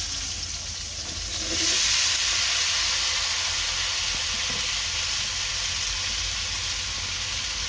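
Potatoes and eggplant sizzle in a frying pan after fish was fried in it, a steady broad hiss that swells loudly about two seconds in and then holds at a constant level with no talking.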